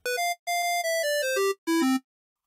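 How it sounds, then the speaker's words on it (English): Mario's death jingle from the video game plays as bright electronic beeper tones on a beginner microcontroller kit, a short run of descending square-wave notes in three bursts with brief gaps, ending on a low tone. "So I'm thinking the Mario death sound"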